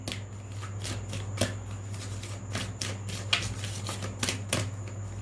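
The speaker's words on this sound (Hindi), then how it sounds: "एक कार्ड लेती हूँ मैं इस डेक में से।" A deck of cards is shuffled by hand. Quick crisp riffling bursts repeat about once a second over a steady low background hum.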